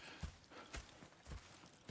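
Horse hooves clip-clop in a video game, a soft, distant walking rhythm of four evenly spaced thuds with no talk over them.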